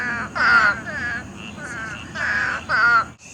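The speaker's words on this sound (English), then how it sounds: "I need you to hear these frogs after the rain." Loud, harsh croaking calls repeat in short bursts, several frogs calling close by after rain with brief pauses between choruses.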